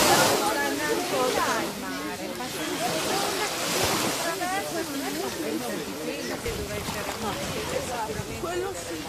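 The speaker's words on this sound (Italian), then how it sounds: "Il mare." Sea waves and surf wash in a continuous roar near the shore, swelling and easing slightly, while people talk in Italian over the water noise.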